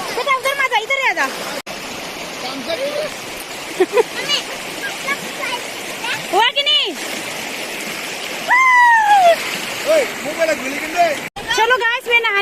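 Stream water in Bhutan flowing and splashing continuously nearby, a steady rushing wash under people talking and calling out, with brief whistling or shouting tones over it.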